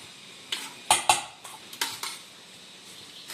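Ghugni and puffed rice being mixed with onion and cucumber, a handful of soft crunchy rustles and light clinks of a spoon against a bowl, close and quiet with pauses between strokes.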